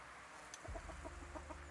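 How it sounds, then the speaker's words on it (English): Chickens gather close outdoors near a Polish forest, with a short series of soft, rhythmic clucks close by at low volume and no speech. "Even the chickens gather around me."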